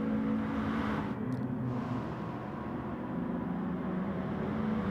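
Race cars lapping the Red Bull Ring in a Gran Turismo Sport league race, a steady droning engine roar with layered motor hum that holds at a fairly constant loud level for the whole stretch, with no voices.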